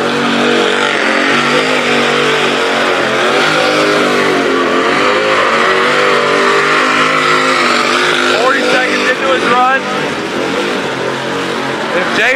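A car does a burnout at Stafford Speedway, its engine screaming at sustained high revs with wavering pitch and tire noise, loud and continuous, while announcers talk over it.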